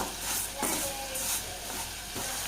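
Dry vermicelli (semiya) being roasted in a pan with no oil, giving a steady soft crackling hiss with a few brief stirring scrapes, close and fairly quiet, no talking.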